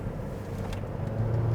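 Inside a 2010 Hyundai Sonata with electronic steering, taking a corner on a road after rain or snow, a steady low engine and road drone rises slightly toward the end, with no talk.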